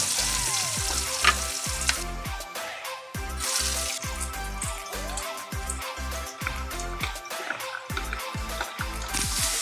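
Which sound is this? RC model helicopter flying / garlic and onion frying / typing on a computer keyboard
garlic and onion frying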